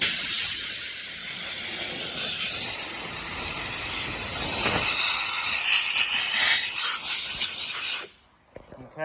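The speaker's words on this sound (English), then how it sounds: "We're going to take the air compressor and blow it off first." Compressed air from an air compressor nozzle blowing dust off a plexiglass sheet, a harsh broadband hiss in uneven bursts with some handling noise, cutting off near the end.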